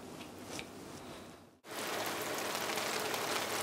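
Heavy night rain pours down in a constant wash of drops, the sound dipping briefly to near silence before returning louder and fuller.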